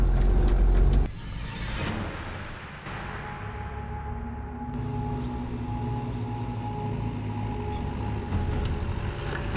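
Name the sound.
4WD vehicle climbing a slippery track on hand throttle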